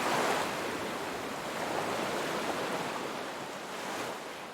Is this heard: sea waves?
yes